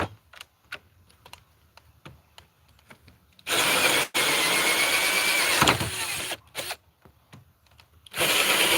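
A power drill whirs in two loud bursts of a few seconds each while building egg holders, separated by scattered clicks and taps, with a third burst starting at the end.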